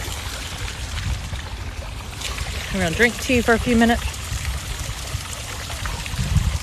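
Fountain water splashing steadily in a crowded garden at midnight, a continuous wash of water beneath nearby talking and crowd chatter.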